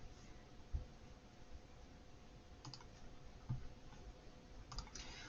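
Faint computer mouse clicks, a few isolated taps spaced several seconds apart over a quiet, hissy background.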